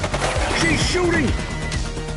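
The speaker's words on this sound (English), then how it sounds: "She's shooting!" Gunshots from a shootout in the police video game The Precinct, quick repeated shots over a loud, busy mix with shouted voices.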